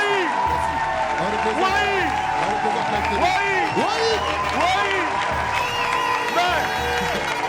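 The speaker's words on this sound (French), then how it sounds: "je souhaiterais qu'on fasse un tonnerre d'applaudissements pour Wei" An indoor audience applauds and cheers for a Miss Côte d'Ivoire contestant, with steady dense clapping and excited shouts and whoops under loud music and a host speaking.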